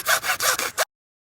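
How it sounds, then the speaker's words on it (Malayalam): Wood being cut to size for a tree house gives five quick, rasping back-and-forth strokes up close, then silence. "നമ്മ ഇപ്പം അതിന് പറ്റിയ അളവിലെടുത്തിട്ട് കട്ട് ചെയ്യണം"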